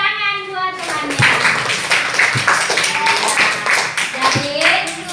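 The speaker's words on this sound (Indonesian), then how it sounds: "tepuk tangan buat temannya." Schoolchildren in a classroom clap for a classmate, a brief burst of scattered hand claps mixed with a teacher and kids talking over a busy room.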